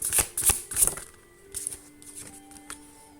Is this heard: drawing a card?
yes